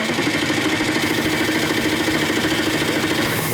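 The Factory Five hot rod truck engine cranks over on the starter during a compression test, a steady rhythmic chugging pulse, loud and close without pause.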